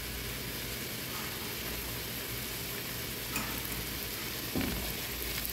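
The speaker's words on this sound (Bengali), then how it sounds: "পেঁয়াজটা একটু হালকা বাদামি করে ভেজে দেবো।" Chopped onions fry in oil in a pan for a hilsa fish curry, giving a steady, close sizzle throughout with a couple of brief stirring knocks and no talk.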